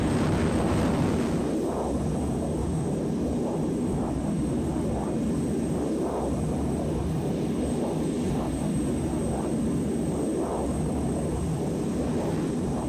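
A plane's engine drones in a flight simulator game, a steady, loud, broadband roar that continues without a break throughout.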